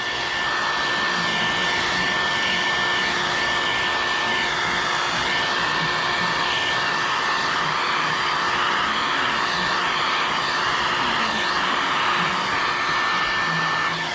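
A heat gun warming window tint film until it burns blows a continuous loud, even whoosh with a faint steady whine on top, and no talking.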